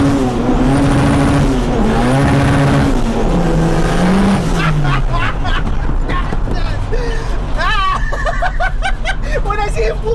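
A 1992 turbocharged Honda Civic EG accelerates hard with its wheels spinning, the loud engine note rising and falling in sweeps while voices talk over it from inside the car.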